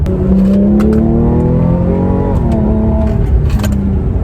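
A Porsche 997 Carrera GTS Cabriolet engine revs hard, close and loud, climbing in pitch through a couple of rising sweeps with a brief shift between them.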